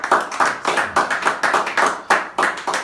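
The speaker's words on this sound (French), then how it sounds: "j'aimerais qu'on lui redonne vraiment l'applaudissement" A small audience claps for a speaker in a quick, distinct rhythm of separate hand claps, near and fairly sparse, with no voices.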